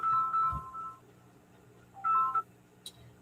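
A real mobile phone rings with an incoming solicitation call, sounding two short electronic melodic ringtone bursts with a quiet pause between them, fairly faint against a near-silent room.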